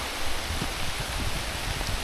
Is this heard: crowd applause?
no